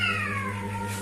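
A cat meows once in a drawn-out, descending cry, fairly close and clear over a steady low background hum.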